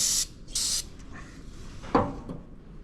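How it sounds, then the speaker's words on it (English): Short bursts of aerosol spray hissing onto the fuel injection pump of a John Deere backhoe, two close spray blasts followed by quiet workshop handling noises. "I spray it off a little bit more."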